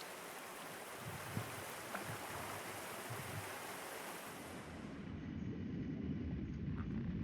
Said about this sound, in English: listen to the nice waterfall while we catch them